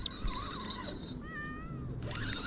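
A cat meows with rising and falling tonal cries during a sunny-day fishing trip outdoors, heard close over steady background noise, with a couple of calls spread across the moment.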